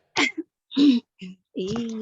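Someone coughs and clears their throat in a few short, separate bursts with brief pauses between, loud and close.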